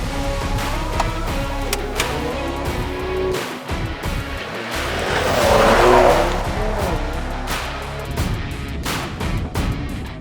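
Mercedes-AMG E53 4MATIC+ Cabriolet on the move, its loud engine and road noise steady throughout with a swelling rush of acceleration midway and brief tire sounds.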